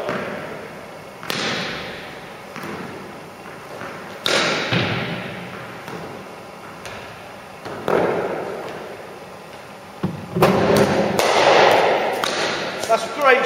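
Cricket bat striking the ball during batting practice in the nets, several sharp woody cracks spaced a few seconds apart, moderately close, with a coach's voice talking between shots.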